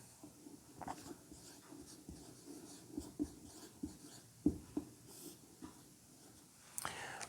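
Faint scratching of a pen across paper or board as a physics solution for current electricity resistance is written out, soft and intermittent with light breathing and a quiet room behind it.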